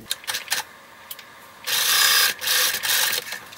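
A sewing machine runs in short bursts while stitching a seam across elastic on an upcycled t-shirt romper, starting with brief clicks and then whirring loudly in two close stretches.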